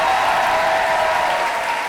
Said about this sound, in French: Est-ce qu'on peut l'applaudir bien fort, s'il vous plaît?